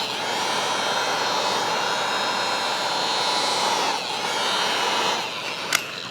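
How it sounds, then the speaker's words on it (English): Heat gun blowing steadily while warming headlight tint vinyl, a continuous loud airy whoosh with a brief click near the end, no talk. "You just get that heat gun nice and warm."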